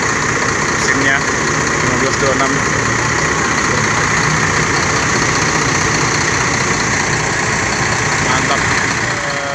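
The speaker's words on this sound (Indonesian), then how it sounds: "Nah, ini mesinnya" A Jetbus 3 coach engine idles up close, a steady, loud, even drone that runs unbroken throughout, while someone speaks briefly over it.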